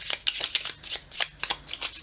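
Santa Muerte tarot cards are riffled and shuffled by hand in quick, crisp bursts, about eight rapid flutters close to the microphone, with no talk.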